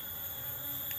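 Honey bees buzz steadily around a hive kept with a fermented-cassava feed, a continuous low insect drone heard close and alone, with no voices.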